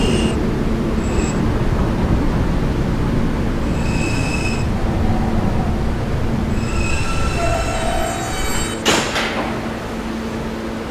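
An R subway train runs at night on the N line, a loud continuous rumble of wheels on rails, with high-pitched wheel squeals coming in bursts and a sharp metallic clank near the end.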